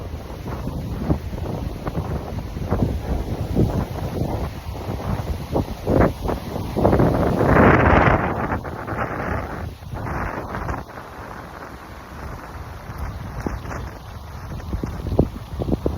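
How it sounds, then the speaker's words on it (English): Outdoor wind buffets the microphone in a continuous low rumble, with heavier gusts swelling in the middle and thumps scattered throughout, loud and close. "gotta let this wind calm down"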